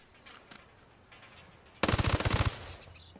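Automatic gunfire in the video game Ghost Recon Wildlands: one loud, rapid burst of shots lasting under a second, close and sharp, after a quieter stretch with a few faint distant cracks.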